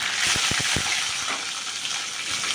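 Hot oil sizzles and crackles steadily as mustard seeds and lentils pop, with a few soft knocks early on.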